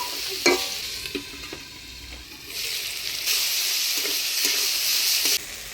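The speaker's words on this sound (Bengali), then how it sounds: "আলু বেগুনটা নাড়াচাড়া করে নিলাম" Potatoes and eggplant fried in tempering oil in a pan, stirred with a spatula: a steady close sizzle broken by sharp scraping clicks, the frying swelling louder halfway through.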